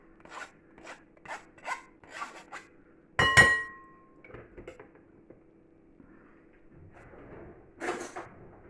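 Blackberry pulp is scraped through a sieve in short rasping strokes, a quiet rhythmic scrubbing with one sharp metallic clink in the middle, close and faint.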